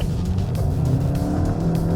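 A 2022 Volkswagen Golf GTI R-Line drives hard on Sepang International Circuit, its engine droning loud and steady from inside the cabin.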